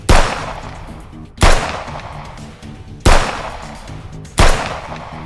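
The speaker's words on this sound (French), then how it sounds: "Tiré à bout portant" Four loud gunshots fired at point-blank range, evenly spaced about 1.5 seconds apart, each a sharp close blast followed by a ringing decay, with no voices.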